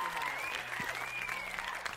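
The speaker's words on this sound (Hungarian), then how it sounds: "most hallatszik a taps." Crowd applause rings out in the video game Ship Graveyard Simulator 2, a faint, steady patter of clapping spread across the whole moment, with a thin tonal layer of game sound running beneath it.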